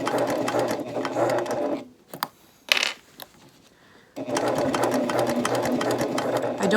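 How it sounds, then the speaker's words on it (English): A sewing machine stitches steadily around a fabric tote bag, close and even, pauses briefly for a couple of light handling clicks, then resumes its rapid continuous whir. "And I'm just going to slowly sew around."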